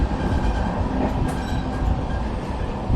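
A train rumbles steadily along the tracks near Tirur, Kerala, with a dense, continuous roar, heard from on board, and no voices.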